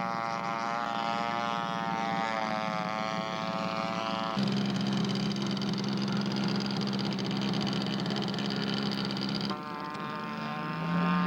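A scale model P-47 aircraft coming in to land at an air park rally, its engine droning steadily with a shifting pitch, loud and close throughout.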